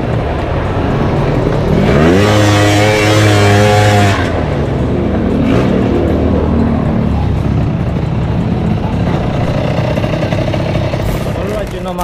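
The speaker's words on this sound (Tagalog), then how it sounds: "nagluluko ang karburador, namamatay ho pagka konting piga tapos nahagok, namamatay" A Honda Dio scooter with a faulty carburetor revs up in a strong rising whine, then settles into a rough, uneven engine note. Loud and close, with someone talking over parts of it.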